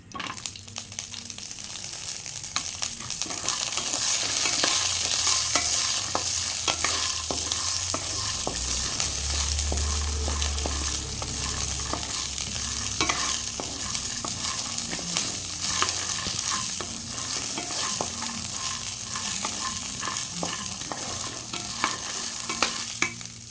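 Green chillies fry in hot oil in a pan for Mysore bonda chutney, with a continuous close sizzle and repeated scraping, clinking stirs throughout, and no talk.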